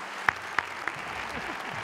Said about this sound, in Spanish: Otro aplauso para ellos,